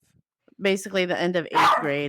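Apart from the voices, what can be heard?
dog barking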